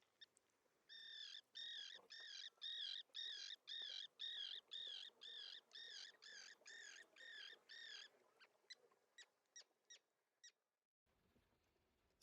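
Common tern, Sterna hirundo, gives a rapid series of about fifteen harsh, grating calls at a steady rhythm, then a few shorter clipped notes that trail off, clear and fairly close in quiet surroundings with no voices.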